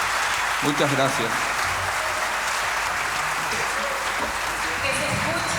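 Steady, dense applause from an audience honoring a singer after a guarania performance, filling the whole stretch at an even level, with a few voices and a brief musical snatch mixed in.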